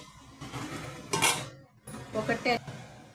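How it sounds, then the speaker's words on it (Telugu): A metal lid clanks onto a pot of chicken cooking in its own juices without added water, two or three close, sharp clatters with some rattling. "ఇప్పుడు మూత పెట్టేద్దామండి."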